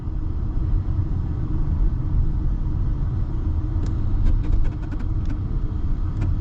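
Steady low rumble of a 2025 Audi A6 cruising on the road, a smooth, even drone of powertrain and tire noise from inside the cabin, with a few faint clicks near the end.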